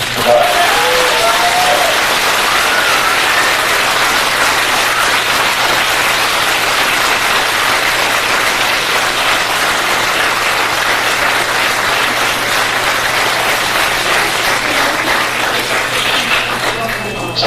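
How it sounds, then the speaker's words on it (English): An audience claps continuously for a long stretch, loud and sustained applause with a few voices mixed in, at a boxing event. "let's give Mark a round of applause."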